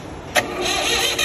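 A 62 kVA generator set's engine is started up close by: a short sharp burst from the starter, then a steady, loud, broadband engine roar that settles into a continuous run.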